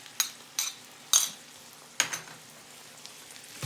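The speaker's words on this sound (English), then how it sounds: "We're going to mix that up together." A utensil scrapes and clinks a few times in a pan as bacon, onions and barbecue sauce are stirred together, giving four or five short, close strokes over a quiet, faint sizzle.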